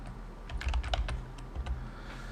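A computer keyboard being typed on, with a quick cluster of light clicky keystrokes including the return key, close and moderately quiet over a low background hum.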